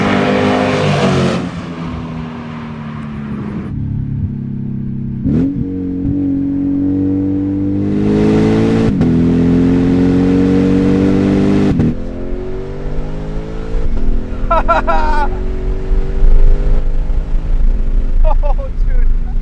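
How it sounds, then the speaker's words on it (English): A Lexus IS F V8 engine with a muffler delete revs hard and repeatedly, its raspy exhaust roaring and dropping between blips, with a short burst of voices mixed in. "we're making my exhaust sound amazing for free"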